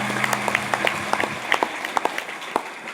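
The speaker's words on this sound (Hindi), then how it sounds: "एक बार बाबूजी के लिए जोरदार तालियां हो जाए" An audience at a Ram Katha religious recitation claps in warm applause, a lively patter of many hands close by that rises briefly and then starts to thin out.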